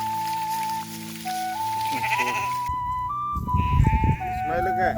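Sheep bleat repeatedly in a rural village flock of ewes and lambs in North Karnataka, the calls near and fairly loud, mixed with voices talking and a sustained melodic tone running underneath.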